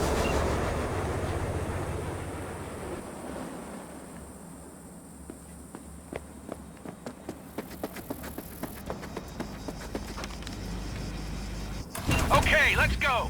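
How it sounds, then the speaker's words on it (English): Train pulling out in the video game Cyberpunk 2077: a low rumble thins out and a series of evenly spaced clanks quickens, then heavy mechanical noise swells at the end, with a voice speaking over it near the start. "the train's leaving."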